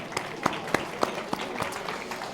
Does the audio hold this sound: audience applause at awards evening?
yes